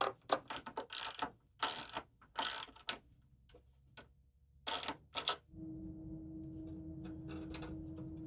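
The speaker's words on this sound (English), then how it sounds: "Make sure everything's lined up before I tighten up these bolts." Bolts are tightened with a ratchet on a giant edge sander: bursts of quick, close ratcheting clicks with short pauses, followed by a steady low motor hum that starts and continues.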